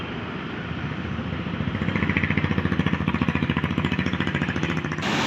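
A night sleeper bus accelerating hard at full throttle, its engine droning loudly with a fast, pulsing rhythm that grows stronger as it pulls away close by.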